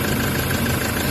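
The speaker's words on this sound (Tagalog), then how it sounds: "umaandar yung makina, ang lakas ng vibrate." A Toyota Hiace engine with a check-engine fault idles with heavy vibration, a dense, constant rumbling drone heard up close and loud with no talk over it.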